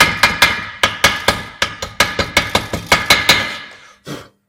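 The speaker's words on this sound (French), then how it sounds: "je prends mon marteau à piquer" Chipping hammer rapping welding slag off a steel weld while building a cradle for a sailboat, around fifteen sharp metallic knocks in a quick uneven rhythm, close and loud, then a duller final thud.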